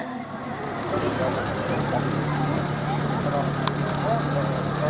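A vehicle idles and rolls slowly past the stage for the parade inspection at a Republic Day ceremony, a steady mid-pitched engine hum under someone speaking over a loudspeaker.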